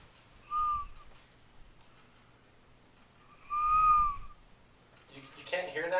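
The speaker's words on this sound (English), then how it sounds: "It's like still totally whistling. Like it's loud." Two separate high, thin whistles come from someone's breathing, each lasting about half a second with a pause between, and a brief noisy sound follows at the end.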